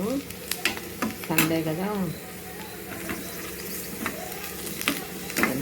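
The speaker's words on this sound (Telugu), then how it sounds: "ఫ్రైడ్ ఆనియన్స్ చేసుకుంటున్నాను అనమాట." Onions fry for chicken dum biryani, a continuous sizzle with stirring clinks of utensil on pan, while someone talks over it.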